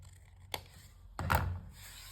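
Scissors trim a paper flap for a craft embellishment book. A faint brief snip is followed by a short, soft rustling cut close by in a quiet room.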